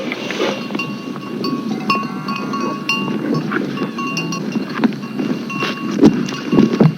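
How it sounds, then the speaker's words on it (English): A herd of cows approaches at a farm community, with bells clinking and clanking irregularly amid a busy shuffle of movement, fairly close and with no one speaking. "So many cows, they're coming"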